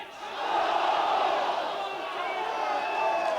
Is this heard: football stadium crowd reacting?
yes